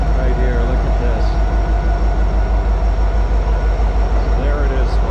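An Alaska Railroad train engine rumbles loudly and steadily nearby, a deep rhythmic throb with regular pulses, while a person talks over it.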